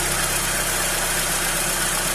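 Close, steady idle of a Mercedes-Benz W124 engine with a Solex carburettor, an even mechanical hum holding constant revs throughout with no talking.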